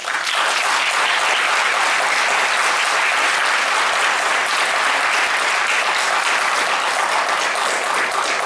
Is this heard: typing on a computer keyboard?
no